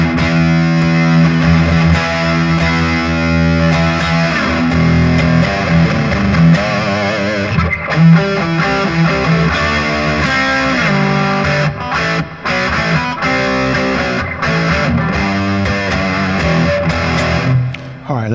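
An electric guitar plays through a ProCo Lil Rat distortion pedal at full distortion, sustained gritty chords and riffs that ring loudly, cutting out briefly now and then.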